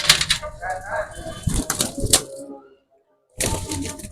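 Wings flap in bursts close by, rustling and fluttering with a voice under it, then a short silence before another burst of flapping.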